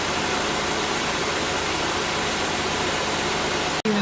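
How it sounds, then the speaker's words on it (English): A Jeep engine runs steadily with its AC compressor spinning during a refrigerant recharge, giving a continuous close-up hum and whir with a brief dropout near the end. "as you can see down here, the compressor is in fact spinning"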